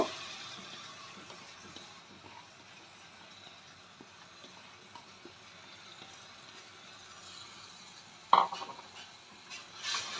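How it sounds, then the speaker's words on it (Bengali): Tomato paste frying in a pan for chicken kofta curry, a steady, soft hiss of sizzling with faint stirring, then a single sharp clank of a utensil near the end. "টমেটোমের পেস্টটা যতক্ষণ না এটা কাঁচা ভাব চলে যাচ্ছে ততক্ষণ আমাদের ভেজে নিতে হবে"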